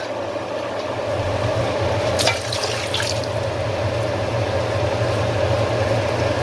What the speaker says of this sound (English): I'll be adding some water here